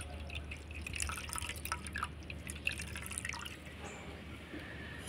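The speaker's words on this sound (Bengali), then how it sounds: "আর এইভাবে করে সাদা কাপড়ে যদি ছেঁকেন তাহলে কিন্তু একবারেই কিন্তু ছেঁকানো হয়ে যাবে" Raw mango pulp juice straining through white cloth, dripping softly and steadily over a faint background hum, quiet and close with no talking.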